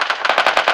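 Rapid automatic gunfire rattles out in a shooting video game, about eight or nine quick, loud shots in a tight, even burst.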